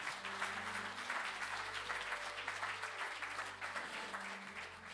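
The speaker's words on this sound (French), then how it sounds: "J'aimerais entendre un grand applaudissement à celui qui veut te redonner le souffle." Sustained applause from a church congregation during a Sunday worship celebration, steady and fairly even for the full stretch, with faint low musical tones underneath.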